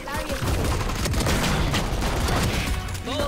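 Gunfire in the video game Valorant, dense loud bursts of rapid shots and booms filling the whole stretch, with excited voices talking over the shooting.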